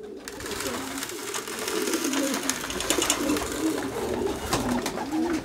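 Pigeons coo steadily throughout, a low repeated burbling from several racing pigeons kept in a loft, with faint background noise and no clear talk.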